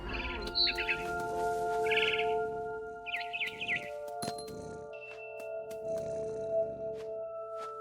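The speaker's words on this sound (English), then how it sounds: "Then I heard chirping outside my window. It was a barn swallow going back to her nest." Short barn swallow chirps in a video game, a bird returning to her nest outside a window, come in bright bursts over steady tonal background music, with a few clinking accents between.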